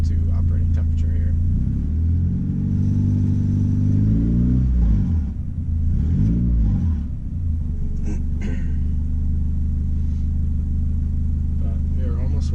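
A turbocharged Honda Accord CD5 engine idles steadily while warming toward operating temperature, a loud low rumble with slight rises in pitch, running continuously beneath a person talking throughout.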